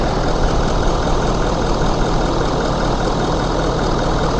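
A 2017 Ford F350 Super Duty with a 6.7 Powerstroke diesel sits idling after a fuel filter change, its loud, even rumble and clatter running on unchanged throughout.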